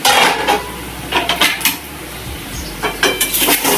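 Metal lid clattering onto a pot of sabudana khichdi on a stove, several clinks and scrapes of cookware close by, loud and uneven with short pauses.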